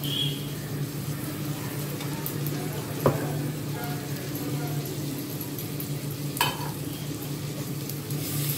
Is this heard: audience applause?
no